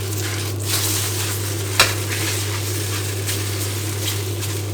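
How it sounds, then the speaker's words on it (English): Hofun rice noodles stir-fried in a wok over high heat, a loud continuous sizzle with scraping stirs and one sharp clack of the spatula against the metal, close up. "Stir fry the other side and do the same thing."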